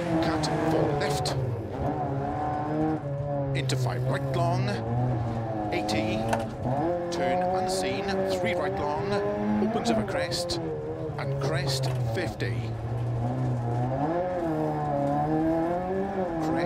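A rally car in Dirt Rally 2.0 drifts and revs hard through a stage, its engine note rising and falling with gear changes and tyre scrabble, while a driver talks over it almost constantly.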